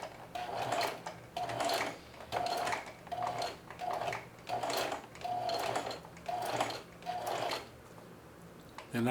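A sewing machine runs slowly through the top line of thick apron straps in about eight short, even bursts with brief pauses between, its motor whirring close and fairly loud.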